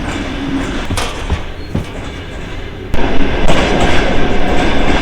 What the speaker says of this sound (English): We are beginning to move again.